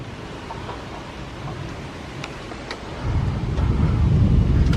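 Nighttime severe thunderstorm with wind gusting and rain hissing, then a deep low rumble swells and grows louder in the second half.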